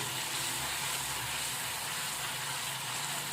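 Garlic paste sizzles in hot oil in a home kitchen, giving a steady, bright frying hiss that holds throughout at close range, with no talking.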